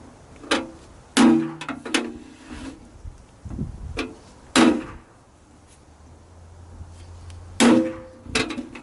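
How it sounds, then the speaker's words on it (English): A center punch is struck into marked hole spots on a metal Bitcoin miner case, giving three sharp metallic hammer raps spaced a few seconds apart, with softer handling clicks and shuffling between them. "we want to center punch them"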